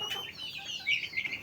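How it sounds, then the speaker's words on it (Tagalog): A turkey calls in a rural farmyard chicken coop, a short, faint, wavering gobble-like cry with a higher trill toward the end, heard alone. "Boses ng pabo."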